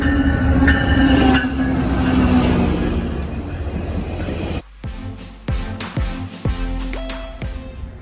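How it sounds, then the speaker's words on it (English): Passenger train bound for Toronto rolling along, a steady loud rumble of wagons and wheels that drops away midway, followed by brief squealing wheel tones and clanks. "We're gonna ride the train."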